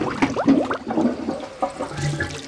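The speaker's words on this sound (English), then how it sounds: "I'm gonna flush." A clogged household toilet is flushed, water rushing and gurgling loudly at close range, with a few brief voices heard around it.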